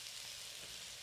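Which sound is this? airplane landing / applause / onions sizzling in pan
onions sizzling in pan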